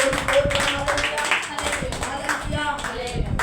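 Congregation clapping during a Sunday church service, steady rhythmic claps filling the room, with voices speaking and singing over them throughout.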